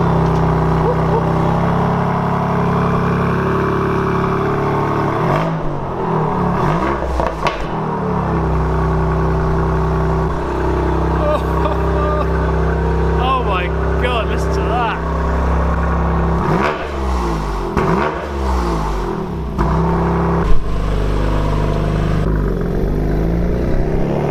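A BMW M2 with modified exhaust starts and rumbles loudly and steadily, with several sharp revving bursts rising and falling throughout, close by and continuous with no pauses.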